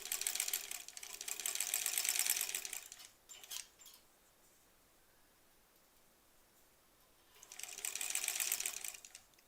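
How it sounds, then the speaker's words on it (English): A sewing machine stitches a granny squares quilt in two fast, rapid-fire runs, a couple of seconds each, separated by a short burst and a quiet pause, close and clear. "I'm so happy with how this machine is sewing, too."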